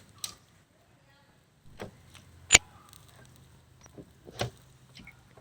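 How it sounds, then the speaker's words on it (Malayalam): A Honda CD Deluxe motorcycle with the engine switched off, its gear lever shifting in a few sharp mechanical clicks and clunks spaced apart, close and otherwise quiet. "ആ ഗിയറിൻ്റെ സൗണ്ട് ശ്രദ്ധിച്ചോണം"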